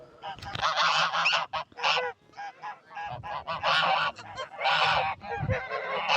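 Seven-month-old farm geese honking loudly during mating, with bursts of harsh, overlapping honks coming in irregular waves and brief pauses, close by.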